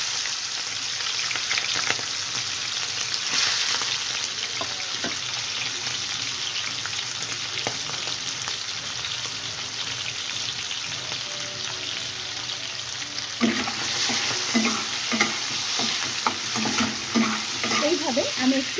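Salted, turmeric-coated prawns frying in a pan with black cumin seeds, a continuous close sizzle with occasional stirring scrapes, growing busier and more crackly in the final stretch.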